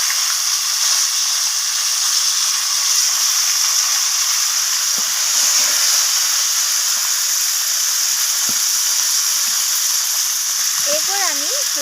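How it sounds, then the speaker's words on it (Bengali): Cut cauliflower frying in leftover fish-frying oil in a wok gives a steady, loud sizzling hiss that runs unbroken throughout, with a few faint clinks near the end. "কড়ার মধ্যে যে মাছ ভাজার তেলটা রয়েছে তার মধ্যেই আমি কেটে রাখা ফুলকপিগুলোকে দিয়ে দিলাম।"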